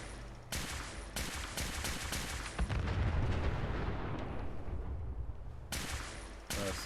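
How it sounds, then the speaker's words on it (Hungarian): A nuclear bomb detonates in Fallout 4, a loud sustained roar of rumbling blast noise that swells mid-clip with crackling, gunfire-like bursts and keeps booming steadily throughout. "egy atombomba fölrobbant mellett"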